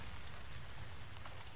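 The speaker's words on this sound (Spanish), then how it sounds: "Ahora la lluvia se va calmando," Rain is easing off in a bamboo forest, a soft, even patter of drops on leaves and ground that stays faint and continuous, with no voices.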